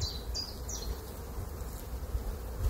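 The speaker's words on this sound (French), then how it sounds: "les abeilles vont devoir passer par mon chasse-abeilles pour aller dans la ruche" Honey bees around a hive fitted with a bee escape, a soft steady buzzing close by with a few brief higher chirps at the start, no talking.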